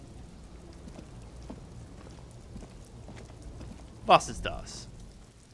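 Rain falling in the video game Disco Elysium, a soft continuous patter in the background, broken by a brief louder burst near the end as a voice speaks a short line.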